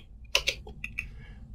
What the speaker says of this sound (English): if I just start typing anything in the Notepad, for example hello world and something like that